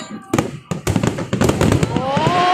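Fireworks at the Pattaya Countdown 2022 New Year celebration, a rapid string of loud cracking bursts and pops close by, ending with rising whistling streaks, while a crowd murmurs underneath.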